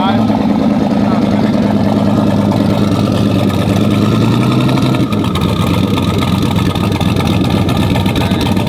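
Rough, loud 1000HP turbocharged truck engine running after sitting for five years, a steady close-up rumble with a slight shift in tone midway as it keeps idling, with voices faintly over it.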